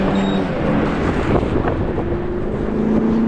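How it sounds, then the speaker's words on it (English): Strong gusty wind of about 48 mph roars on a walk down Angola Road, buffeting the microphone in a loud, continuous rumble with no speech. "Crazy windy."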